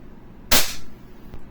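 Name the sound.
WE Glock 18c airsoft pistol firing 0.20 gram BBs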